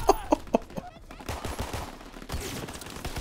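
Gunfire in Call of Duty: WW2 multiplayer, a short burst of three sharp shots at the start followed by scattered rattling fire and in-game noise, with a voice talking underneath.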